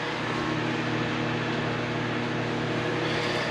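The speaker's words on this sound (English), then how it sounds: "you can hear the microwave in the background making a little Easy Mac" Microwave oven running in the background while cooking Easy Mac, a steady low hum and fan drone with no break, fairly faint.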